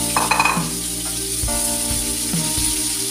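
Pork belly (panceta) frying in a pan for gachas manchegas, a steady close sizzle broken by a few stirring scrapes and clicks.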